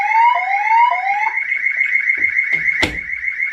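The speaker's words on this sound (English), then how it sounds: "You can hear the other siren going off." A security-system fire alarm siren sounds loudly during a system test, opening with rising whoops and then holding one piercing steady tone, with a couple of thumps and a sharp clack near the end.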